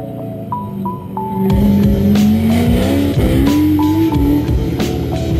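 A powerful Shelby Cobra sports car engine revs and accelerates with rising pitch at an autocross event, joined by brief tire squeals, loud and close throughout.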